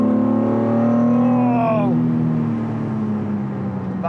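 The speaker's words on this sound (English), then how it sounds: "Bit of revs, drop the clutch, whee, that's it. Find a bit of traction, first gear, second gear." A Datsun 240Z engine revs hard through a clutch drop and pulls up through the gears, rising harmonics falling at each shift, loud and close, with a brief exclamation from the driver.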